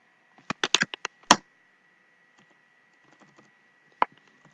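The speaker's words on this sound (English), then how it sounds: "type it in" Typing on a computer keyboard, a quick cluster of crisp close key clicks followed by a pause and a few sparse, softer taps.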